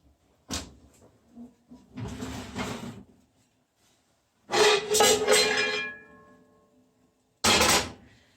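An oven door and the lid of a baking vessel are handled while sourdough bakes, giving three separate bursts of clunking and scraping with quiet gaps between, close by and fairly loud.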